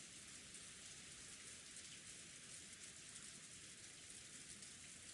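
Steady, dense rainfall in the visual novel Umineko hissing continuously, a constant wash of drops with no pauses or other sounds.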